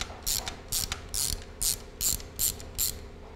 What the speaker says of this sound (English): now flip the rotation and lever and release the tension on the spring